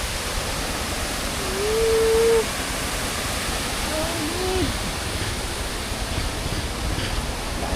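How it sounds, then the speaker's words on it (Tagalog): A river runs with a strong, muddy current after overnight rain, a constant loud rushing roar that fills the scene, with a few brief tonal vocal sounds rising faintly over it. "Lakas ng agos. Malabo nga lang kasi magdamag umulan."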